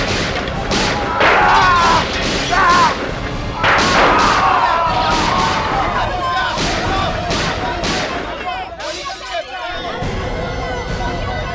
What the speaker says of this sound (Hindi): बहुत गोलियां चली।